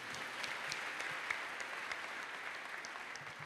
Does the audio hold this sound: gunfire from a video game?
no